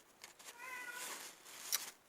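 A domestic cat meows at a door, a single drawn-out meow in the middle of the clip, fairly close but soft, with light room noise and a faint click near the end.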